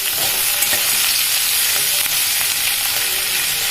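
Chopped tomato is stirred into a frying pan while making pasta, a dense steady sizzle and hiss with faint stirring scrapes underneath, loud and close with no voices.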